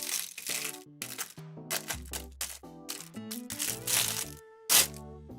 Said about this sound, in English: That was the noise of the spoon.